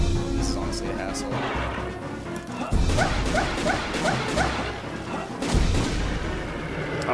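Dogs barking in the Castlevania: Legacy of Darkness video game, several sharp yaps and barks mixed with loud crashing game effects and gunfire-like bursts, with a voice talking over the action.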